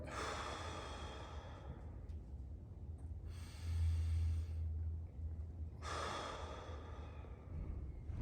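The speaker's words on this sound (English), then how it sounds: "you're going to take a nice deep breath in, and on your exhale, see if your body will let you sink into the stretch a little more" Slow, deep breaths during a hip stretch: a long breathy inhale, a pause, then a fuller exhale, with another breath starting near the end, soft and close against a low steady background hum.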